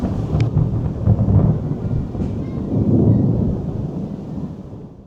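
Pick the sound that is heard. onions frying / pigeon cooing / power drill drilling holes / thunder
thunder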